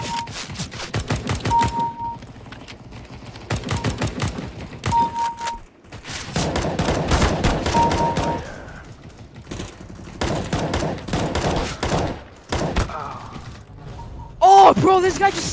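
Rapid SMG bursts crackle in repeated volleys during a CS:GO match, loud and close with brief gaps between strings of shots. Excited voices chatter at points alongside the gunfire.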